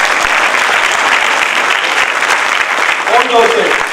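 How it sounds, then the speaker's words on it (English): Warm audience applause at an innovation and intellectual property workshop, a steady dense patter of many hands clapping throughout, fairly loud, with a brief voice speaking over it near the end. "So I think he needs a warm applause."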